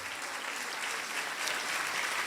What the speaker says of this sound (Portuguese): uma salva de palmas a todos